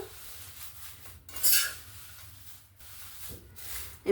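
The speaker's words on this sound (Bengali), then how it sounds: "ভালো করে মিক্স করে নিয়েছি ড্রাই ফ্রুটের সঙ্গে" Flattened rice snack is tossed with dry fruits in a bowl, producing soft, quiet rubbing and scraping stirs with a few brighter clinks, and no speech.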